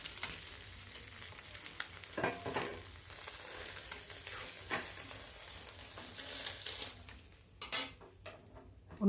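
Small mourala fish fry in an iron wok with a constant hiss of hot oil, broken by occasional scrapes and clinks of a utensil against the metal, with a louder clatter near the end.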